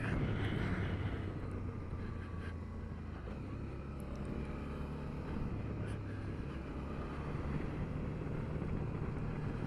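A 2021 Suzuki DL650XT V-Strom motorcycle held in second gear as the throttle opens, a steady engine drone blended with heavy wind rush across the microphone, continuous with no pauses.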